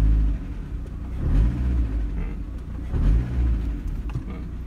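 A manual car's engine blips under throttle, giving a few short rumbling revs that rise and fall near the start, middle and three-second mark over a low idle.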